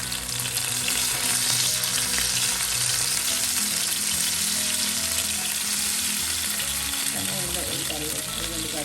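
Small kingfish frying in oil in a pan, giving a loud, steady sizzle throughout with some stirring and flipping noises near the end, close up and continuous.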